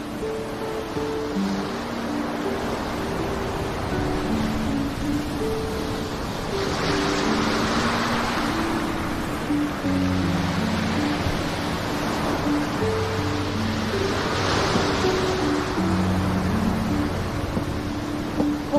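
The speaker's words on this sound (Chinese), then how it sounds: "海浪的声音比较大。" Loud ocean waves heard near a seaside glass house, a continuous broad roar that swells twice as waves break, with a soft tonal backing underneath.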